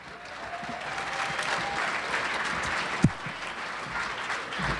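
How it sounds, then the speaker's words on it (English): Audience applause fills a banquet hall at an annual downtown awards dinner, a steady sustained clapping from a large crowd with one sharp louder knock partway through. "Let's give it up for DSI Board President Karen Kahn."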